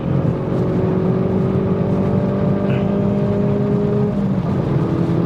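Hyundai i30N Performance racing around Queensland Raceway National Circuit, a steady loud engine drone heard from inside the car with constant road and wind roar, no pauses.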